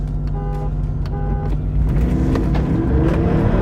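Jeep Wrangler 392, Land Rover Defender V8 and Mercedes-AMG G line up for a drag race: two short horn toots count down, then loud engines rev and roar as the SUVs launch together.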